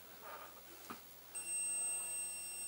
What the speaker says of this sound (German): Ich habe hier das Kabel in der Hand und der Stift piept.